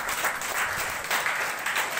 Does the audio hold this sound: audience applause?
yes